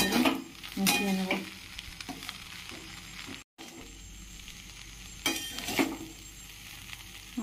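Egg masala pulao with cumin, green chilli, coriander leaves and garam masala is stirred in a pan, a low sizzle punctuated by a few loud bursts of spatula scraping.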